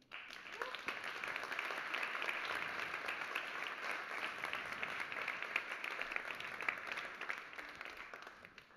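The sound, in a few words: audience applause at a summit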